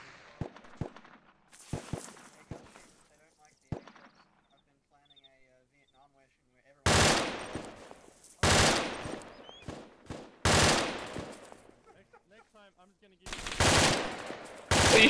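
Gunfire in the military shooter ArmA II: scattered single shots early on, then several loud bursts of sustained automatic fire separated by quiet gaps, with players talking between them.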